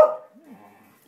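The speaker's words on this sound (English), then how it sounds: "She's barking like that, but she's wagging." A dog gives a single sharp bark up close, followed by softer whining, yip-like sounds that trail off.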